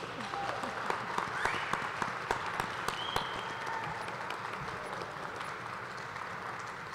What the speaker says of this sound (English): Now we can give a collective round of applause.